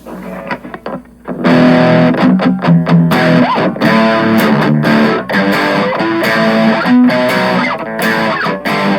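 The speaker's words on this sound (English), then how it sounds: "I should say that's brown distortion." Electric guitar played through the brown distortion setting of a BOSS Katana Mini X amp, warm and saturated, sustained chords and notes ringing out loudly after a brief quiet start.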